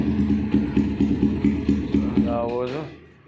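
A Kawasaki Ninja 350cc replica motorcycle engine idles with a rhythmic, pulsing thump that slows and fades out, while a person talks over it.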